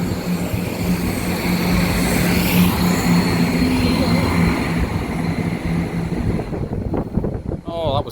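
Train passing Brayford Level Crossing, heard as a loud, continuous rumble and rush mixed with heavy wind buffeting on the microphone, easing off toward the end.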